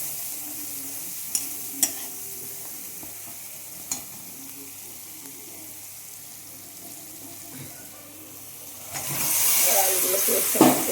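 Potatoes and peas for aloo dum are stirred in a pan with soft scraping and a few sharp clicks, before a louder hissing sizzle builds near the end.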